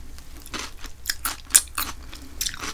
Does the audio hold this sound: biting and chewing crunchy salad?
yes